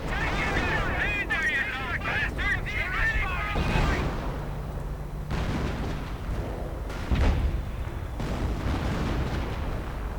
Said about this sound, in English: Artillery flying through the air.